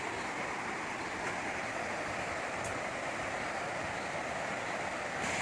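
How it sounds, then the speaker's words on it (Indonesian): A river flows through forest near a coffee plantation in Mega Mendung, a steady broadband rush of running water that stays constant and fairly loud throughout, with no voices. "Itu suara sungai, kali."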